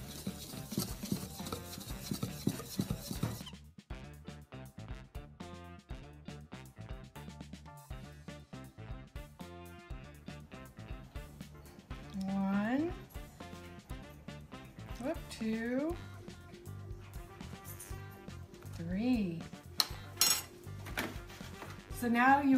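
Brownie pie batter is stirred and mixed in a bowl, with repeated clinks and scrapes of a utensil against the bowl at an uneven rhythm, close by and moderately loud.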